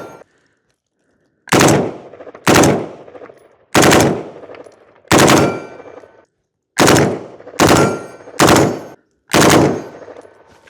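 Rifle fitted with an FRT trigger firing seven or eight loud, rapid bursts of about three shots each, separated by short pauses and ringing briefly after each burst.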